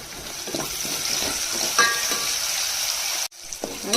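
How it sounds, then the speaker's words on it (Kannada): Tomatoes with turmeric frying in a pan for pea gravy, a steady close sizzle with stirring scrapes throughout, briefly cutting out near the end before resuming. "ಮೆಲ್ಟ್ ಆಗೋವರೆಗೂ ಫ್ರೈ ಮಾಡಬೇಕು."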